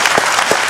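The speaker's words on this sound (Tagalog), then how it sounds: "palakpak na kayo" Short burst of audience applause at a distributors' orientation gathering, dense steady clapping from a room full of people, fairly loud and close with no speech over it.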